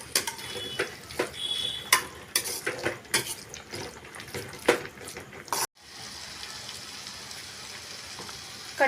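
Chili powder being stirred into a spinach and potato masala in a pan, with irregular scraping and clattering strokes over a soft sizzle, then a steadier hiss of frying near the end.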